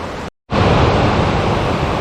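Drift Falls in Sapphire Valley, North Carolina, runs with high river water, a loud, steady broadband rush close by, broken only by a short silent dropout near the start.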